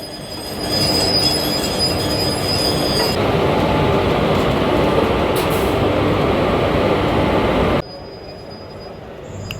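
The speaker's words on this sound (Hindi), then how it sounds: "हमारी ट्रेन का लोको रिवर्सल हो चुका है, देख सकते हैं। अब ट्रेन हमारी आगे से निकल के पीछे की ओर लगने को तैयार है।" A train locomotive on the Howrah Rajgir Express moves to couple after a loco reversal, steady close rumble of rolling wheels with squealing metal, ending in a quieter stretch.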